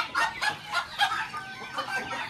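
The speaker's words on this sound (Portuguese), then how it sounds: "E aqui é a baia das galinhas" Chickens in a poultry pen for multicoloured egg production cluck repeatedly in overlapping bursts, close and fairly loud with no talking over them.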